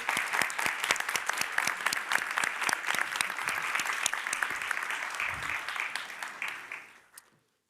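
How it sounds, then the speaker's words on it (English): An audience applauds after talks at an architecture symposium: dense, steady clapping that fills the room, then tapers off and fades out near the end, with no talking. "let's give them applause"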